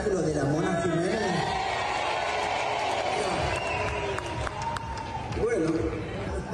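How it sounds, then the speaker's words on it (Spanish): A large live audience gives an ovation for the performer la Mona Jiménez at a show in Mar del Plata, with steady, loud crowd cheering and clapping throughout, and voices calling out over the din. "esta ovación de todo el público para el número uno, la Mona Jiménez."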